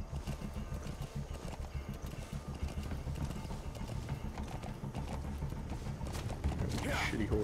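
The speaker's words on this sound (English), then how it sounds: "You telling me that horse cannot jump those sandbags?" Horse hooves clip-clop at a run in Metal Gear Solid 5: The Phantom Pain, a steady rhythmic galloping beat over game sounds and music, loud and close throughout.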